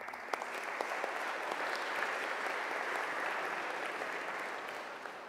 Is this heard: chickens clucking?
no